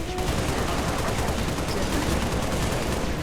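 Steady assault rifle fire in Halo Reach against Brutes, a loud, unbroken stream of rapid shots filling the whole moment with no pauses.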